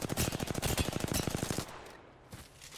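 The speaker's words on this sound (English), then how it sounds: "Those were decent shots, weren't they, Marcos?" Rapid automatic gunfire in Apex Legends, a loud close burst of evenly spaced shots for about a second and a half, then a quieter tail with one faint extra shot.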